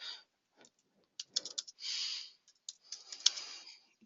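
Short, scattered keystrokes are typed on a computer keyboard into a text box as separate quiet clicks, with one longer soft hiss in the middle, in an otherwise silent room.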